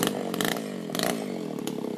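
A chainsaw cuts through the trunk of a kapok tree that served as a support post in a pepper plantation. The engine runs loud and close, revving in pulses as the chain works through the wood.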